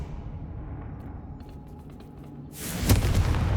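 A Confringo blasting spell explodes in Hogwarts Legacy, a low rumble building into a sudden loud boom with a bright burst near the end.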